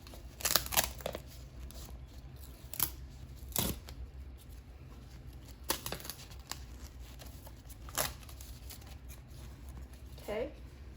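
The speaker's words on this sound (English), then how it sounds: "I'm gonna now take off the excess stickers on the side." Adhesive stickers peeled one by one from the edge of a central venous access device dressing, giving several short crinkly tearing bursts spread over quiet background.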